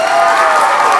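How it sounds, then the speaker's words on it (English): A big round of applause from a celebrating crowd: a brief, loud, continuous wash of many hands clapping with a hint of cheering underneath. "One more big round of applause,"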